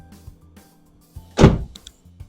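A 2026 GWM hybrid pickup door opens as a rear seat powers backward, giving a short, loud mechanical whirr and thump over faint background clicks. No one speaks.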